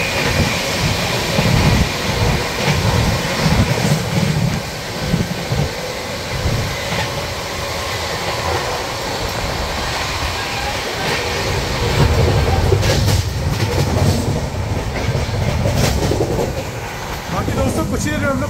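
The 12276 Humsafar Express runs at 130 km/h, heard from onboard as a loud, continuous rumble with rapid clickety-clack of wheels over rail joints that swells and eases throughout.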